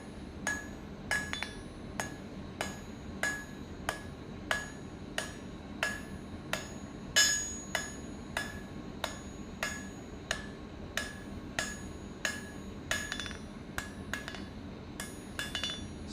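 Hot steel is hammered on a double horn anvil during blacksmithing of a leaf hook: about two dozen sharp, ringing metallic strikes in an even, steady rhythm, close and clear, with no talking.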